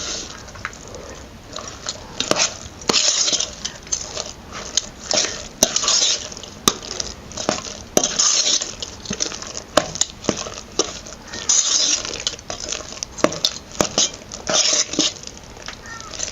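Medu vada batter of lentils with cumin and salt being mixed by hand in a bowl, producing close, uneven squelching and scraping strokes with sharp taps, no talking.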